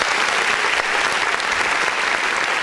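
Continuous clapping from a group of people, dense and even throughout this short stretch with no voices on top.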